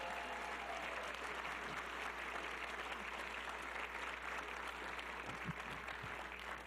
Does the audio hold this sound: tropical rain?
no